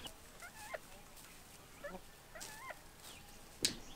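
Meat chickens in a brooder make soft, scattered peeps and chirps at close range, with a sharper click or tap near the end and no talking.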